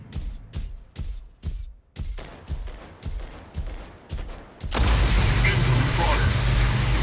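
Mech Arena video game combat fills with rhythmic bursts of heavy mech weapon fire, several spaced volleys followed by a dense, loud continuous barrage and explosions.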